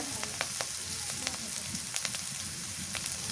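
Garlic and onion paste fries in hot oil, a quiet, steady close sizzle with scattered sharp crackles and pops throughout.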